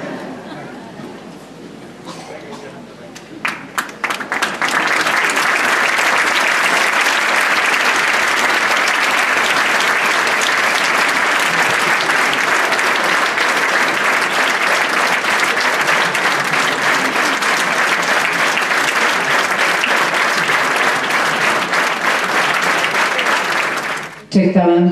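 A concert audience at a 45th jubilee accordion-club show in Magyarkanizsa breaks into sustained, loud applause that swells after a few seconds and holds steady, dense and even, for roughly twenty seconds before cutting off, with faint chatter underneath.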